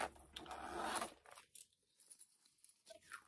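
A zipper on the pocket of a waterproof-looking designer-inspired handbag is pulled open in one long rasping sweep, close and clear, followed by a couple of softer short zipper drags.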